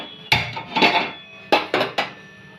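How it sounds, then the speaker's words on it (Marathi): Masala dry-roasts in a pan for a bitter gourd dish, heard as a handful of sharp scraping knocks of a utensil against the pan in uneven bursts, close and fairly loud, with no voices. "हा मसाला भाजून घेऊया"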